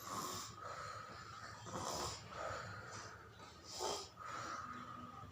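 Human voice imitating a lion snoring during a children's story, with several slow, rhythmic rasping snore breaths repeating close and moderately loud.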